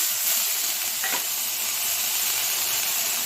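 Grated onion mixed with dried red chili powder hits hot oil in a pan for a thin egg curry, giving a steady, close, continuous sizzle and hiss throughout with no voices.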